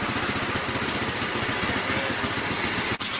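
A 1989 Sears lawn tractor engine idling close by, a steady, rough, pulsing chug that stays loud and even throughout.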